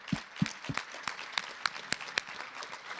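A small scattering of claps from an audience at a ULI Toronto symposium, sparse individual hand claps spaced irregularly over three seconds, fairly faint and distant.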